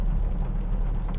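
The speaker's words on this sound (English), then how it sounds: "It's pouring rain outside because we're south of the border." Heavy rain pours down outside a car on the road, a steady dense wash of low rumbling noise with engine hum beneath, continuous and fairly loud throughout.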